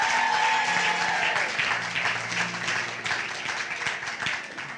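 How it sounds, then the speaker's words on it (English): Warm applause from an audience for the nominees at a community award ceremony, starting strong and then continuing at a slightly lower level, with some scattered voices mixed in. "Is everybody ready for applause for the nominees?"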